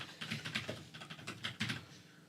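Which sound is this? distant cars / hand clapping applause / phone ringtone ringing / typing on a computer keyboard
typing on a computer keyboard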